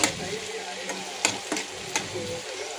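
Tomatoes frying with onion for green chicken masala: a continuous close sizzle broken by a few sharp scrapes and clatters of a spoon stirring in the pan, with no talk.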